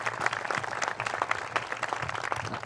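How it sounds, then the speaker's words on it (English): An audience gives dense, continuous applause of many hands clapping, moderately distant and steady throughout, at an evening civic address held at a zoo. "I'd like to have a round of applause"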